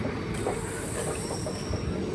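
A train moving along the tracks produces a steady, close rumble with a faint high squeal from the wheels. The sound is continuous and carries no speech.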